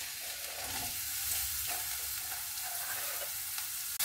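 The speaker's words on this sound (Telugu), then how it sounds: "ఆయిల్ హీట్ కాగానే దాంట్లో సన్నగా కట్ చేసి పెట్టుకున్న ఆనియన్ వేసుకోవాలి ఫస్ట్." Thinly sliced onion sizzles and fries in hot oil in a pot, a loud, continuous crackling hiss with occasional stirring scrapes and no talk.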